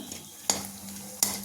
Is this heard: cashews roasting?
yes